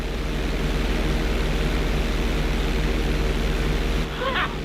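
Airplane engine in GTA 5 droning steadily as the plane flies level, a loud continuous hum with a broad noisy roar that briefly dips near the end.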